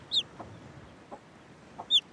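A few backyard hens at Waitaia Bay in New Zealand give two short, high clucks, one at the start and one at the end, with quiet outdoor background between them.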